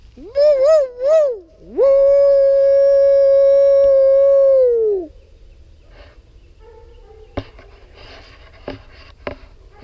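A dog lets out a short wavering howl and then one long sustained howl, loud and close, followed by quieter scattered noises outdoors.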